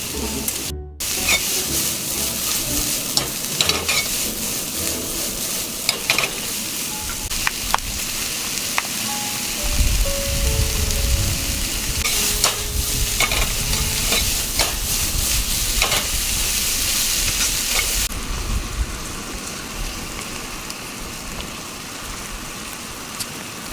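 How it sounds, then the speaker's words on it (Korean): Cabbage, green onion and onion stir-fried for Chapagetti noodles at a rainy campsite: steady close sizzling with scraping and stirring strokes, over a constant patter of rain throughout. "파게티에 같이 넣어서 볶으려고."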